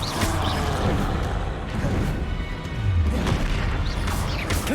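Confringo blasting-spell explosions in the Hogwarts Legacy game: loud, dense booming blasts and crashing impacts roll almost continuously, with a heavier rumbling hit around the middle.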